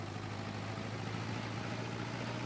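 Tractor engine in a farming video game idling with a steady low drone and constant hum, close and even in level, with no voices over it.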